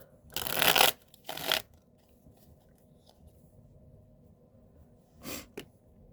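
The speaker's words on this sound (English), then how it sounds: "One more shuffle." Tarot cards being shuffled close by in three brisk riffling bursts, two together early on and one more after a long quiet pause.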